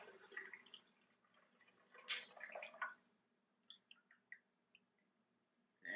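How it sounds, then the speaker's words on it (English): A shaken Cosmopolitan cocktail splashes and drips into a glass, with scattered small drips and clinks trailing off near the end. "And then pour."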